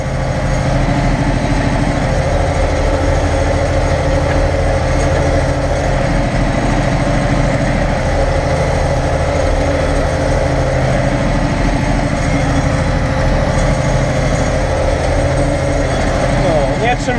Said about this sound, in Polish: ciągnik sobie swobodnie jedzie, tak to ma być